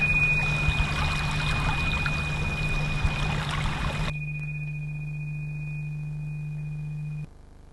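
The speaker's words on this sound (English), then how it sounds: "pause in quiet reflection to the sound of flowing water." Gentle flowing water pours and trickles steadily for about four seconds under a constant low hum and a thin high tone, then drops away, leaving only the faint hum and tone.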